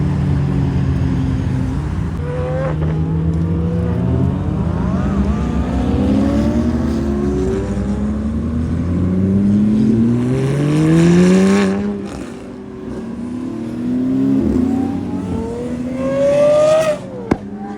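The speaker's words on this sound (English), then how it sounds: "We have an MC12 rolling by now." A Maserati MC12 supercar rolls past amid other cars at Monterey Car Week, its engine rising and falling through several loud revving gear changes, close and sustained, ending with a sharp blip.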